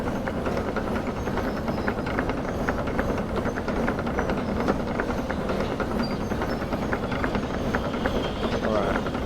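A shunter locomotive in the Derail Valley VR train game rolls steadily along the track, a dense continuous rumble with faint rhythmic clicking of wheels, constant and close throughout.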